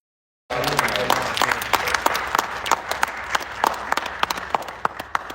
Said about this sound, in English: Please join me in giving a round of applause to all the speakers and performers who spoke.